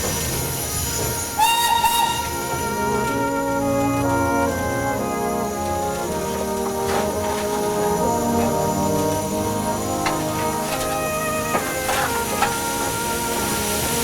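A steam train whistle shrieks near the start as it enters a tunnel, then a steady rumble of the running steam train with scattered clanks and hisses continues throughout.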